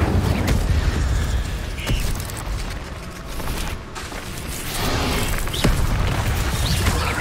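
Fire spells cast in a Hogwarts Legacy battle make a loud, continuous roaring whoosh with booming bursts that swell and dip, filling the whole stretch with dense, crackling noise.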